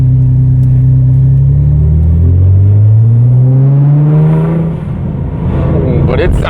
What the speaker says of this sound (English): One of my favorite things about the GTR is its sound.